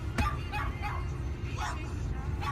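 Loose dogs barking in a few short yelps and woofs from a moderate distance, with background voices and street noise underneath.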